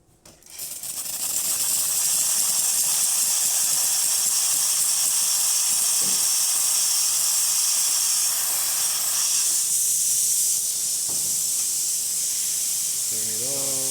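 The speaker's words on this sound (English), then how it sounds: "Let me start test the steamer first." A Gaggia Classic Pro espresso machine's steam wand hisses loudly and steadily for nearly the whole stretch, starting after a short quiet moment, with the broadband rush dipping slightly near the end.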